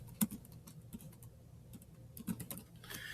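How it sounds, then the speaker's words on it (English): Soft, quiet keystrokes on a computer keyboard, a brief burst of typing as a search term is entered, with scattered light clicks and no talking. "So I would type in Prohibition"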